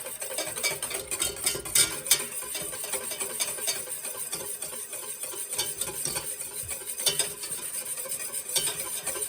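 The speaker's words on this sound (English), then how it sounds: "We're going to boil this for 2 minutes while stirring." Spoon stirring a pot of rapidly boiling hot cocoa, with repeated scraping and clinking against the pot and a bubbling sizzle underneath, close and moderately quiet.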